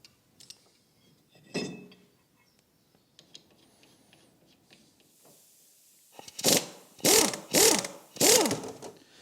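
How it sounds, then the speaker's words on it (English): A ratchet works loose the bolts on Wilwood brake calipers, starting with faint scattered clicks and clinks before four loud, evenly spaced ratcheting bursts near the end, close up with no talking. "So I'm going to take the Willwood brake calipers off."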